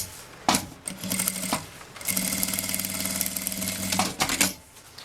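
Sewing machine stitching a seam along a zipper on a fabric bag, a steady mechanical whir that starts, pauses and resumes in close bursts, with no talking.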